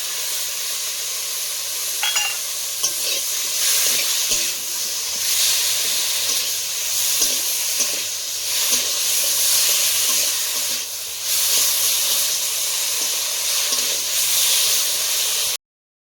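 Dry red chili, green chili and cumin fry together in hot oil, giving a steady close sizzle and hiss that runs the whole way through, with faint stirring scrapes now and then.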